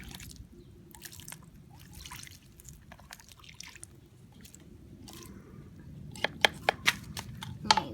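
Water poured onto fine, stone-free potting soil in a pot before sowing parsley seed, with soft dripping and wet trickles that build toward the end into louder splashy pours, heard close and alone.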